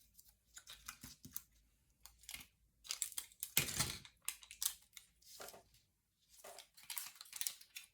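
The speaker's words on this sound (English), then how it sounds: "I am going to cut these in half so they fit onto the circle." Scissors cut paper pieces in half for a fall daisy wall-art craft, making a string of close, crisp snips and rustles. The cuts come in irregular bursts with short quiet gaps between them.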